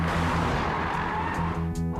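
A Nissan car drives hard with tires squealing, a loud, sustained engine and tire whine that stays steady and close for the full two seconds, with no voices.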